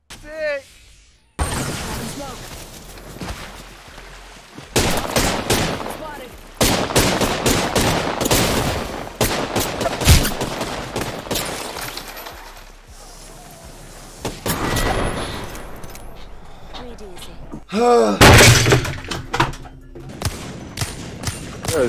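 Apex Legends gunfire comes in loud bursts of rapid shots and single cracks, scattered across the scene with short gaps, mixed with shouting voices and other game effects.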